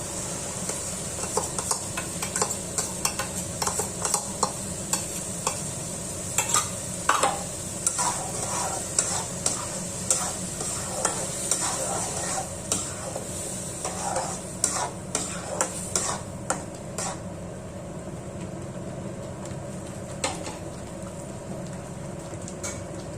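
A paste of spinach, cashews and green chilies sizzles in a pan, with a steady fry hiss broken by repeated scraping stirs. It is fairly quiet and close, with no talking.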